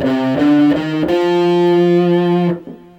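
A distorted electric guitar plays a short four-note minor tetrachord, rising note by note and holding the last tone before it fades.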